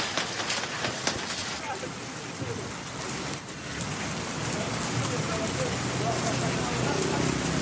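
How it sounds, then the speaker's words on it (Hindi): Steady rain falls in Islamabad after a spell of intense heat, a dense, continuous hiss of drops on surfaces with brief sharper taps near the start, close and fairly loud with no voices. "इस्लामाबाद में शदीद गर्मी के बाद बारिश का सिलसिला शुरू हो चुका है।"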